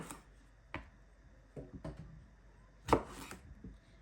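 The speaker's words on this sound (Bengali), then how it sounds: "এই ছোটো বেগুনগুলো এখন আমি কেটে নিব" A knife cuts small eggplants on a board in a few sparse, crisp chops, with one louder thud near the end, close and quiet with no talking.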